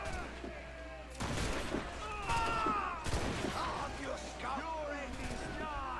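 Gunfire in the video game Assassin's Creed Rogue, with several sharp shot bursts and crashing impacts spread over a few seconds amid shouting voices and battle noise.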